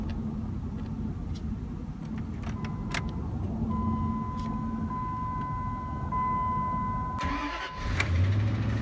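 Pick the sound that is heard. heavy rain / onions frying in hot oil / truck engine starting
truck engine starting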